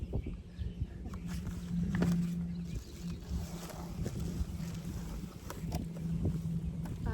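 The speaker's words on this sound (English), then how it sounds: "it's another windy day in Missouri" Steady gusting wind buffets the microphone outdoors on a windy day in Missouri, a continuous low rumble with swelling gusts and no talk.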